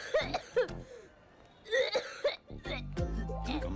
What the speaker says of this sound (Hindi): खांस रहे हो।